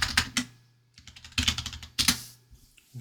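Computer keyboard keys clatter in short bursts of typing while text is entered in Unreal Engine, with several separate clusters of quick taps and brief pauses between them, close and fairly quiet.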